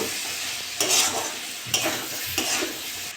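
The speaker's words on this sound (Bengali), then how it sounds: "নেড়ে চেড়ে নেবো" Spices being stirred in hot oil for chana masala, a spatula scraping the pan in a few bursts over a steady close sizzle.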